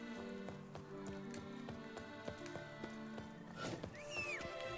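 Roach, a horse in The Witcher 3 video game, clip-clops along with steady hoofbeats and gives a whinny, heard over game music and ambient sound.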